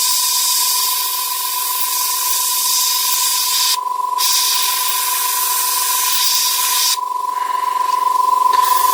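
Airbrush spraying paint onto a scale model, giving a steady, close, loud hiss with two short breaks where the trigger is released, then resuming.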